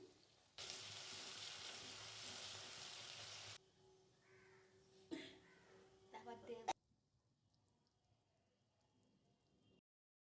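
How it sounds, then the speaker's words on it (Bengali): Loud frying sizzle of bottle gourd with salt in a pan on low heat for about three seconds, then quieter pan sounds with a few clinks of stirring before fading to near silence. "গ্যাসটা আমি সিমেই রেখে ভাজছি।"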